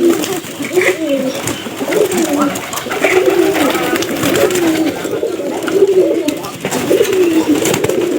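Pigeons coo in repeated low, throaty phrases, close and fairly loud, one after another with a soft background rustle.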